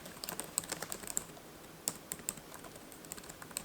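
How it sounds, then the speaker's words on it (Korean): Quiet, quick typing on the keyboard of an ASUS ROG Strix Scar 17 gaming laptop with Intel 12th-generation hardware: a rapid, uneven run of soft, close key clicks with a short pause midway. "빠르게 타이핑이 가능하며 손에 달라붙는 쫀쫀한 느낌이라고 보시면 되겠습니다."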